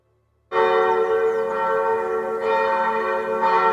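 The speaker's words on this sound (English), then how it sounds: "the church bells rang throughout the country" Church bells ring loudly and continuously across the country on May 8, 1945, after a brief quiet start, rich overlapping tones sustaining and swelling without pause.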